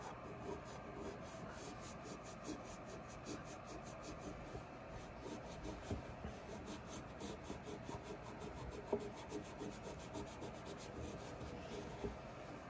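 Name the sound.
cleaning a deer rifle after lapping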